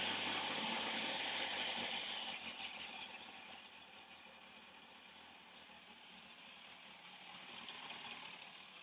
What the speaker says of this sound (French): Là je laisse tourner un petit peu au ralenti.